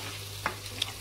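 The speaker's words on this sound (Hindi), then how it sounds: "अभी जो है शाशलिक का तड़का रेडी हो रहा है, अदरक लहसुन का पेस्ट है इसमें गाइस।" Ginger-garlic paste tadka fries in a pan for egg fried rice, giving a soft continuous sizzle with a couple of faint stirring scrapes, close up and without talk.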